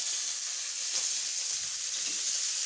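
Sardines frying in a pan give a steady, quiet sizzle and hiss that carries on without a break and with no voices over it.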